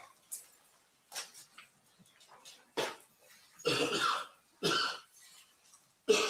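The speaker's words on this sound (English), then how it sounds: "coughing again" Repeated coughs and throat clearing in a courtroom during a trial's cross-examination, several separate bursts spread across the clip, fairly close and alone without talk.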